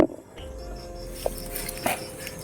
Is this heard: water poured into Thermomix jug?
no